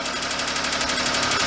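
A clapped-out Daihatsu mini truck with a blown engine idles steadily, a loud continuous mechanical rumble with a fast even tapping rhythm and no voices.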